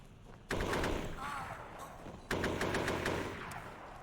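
Automatic gunfire in the SOCOM US Navy Seals video game: two loud, sustained bursts, the first starting about half a second in and the second roughly two seconds later, each rattling on with a dense, echoing roar.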